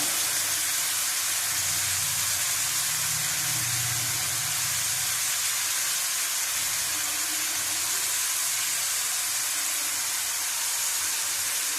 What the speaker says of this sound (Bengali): ভেজে নেবো ভালো করে।